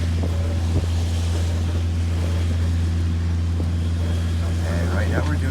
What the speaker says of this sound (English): So we're motoring, but we do have the sails up.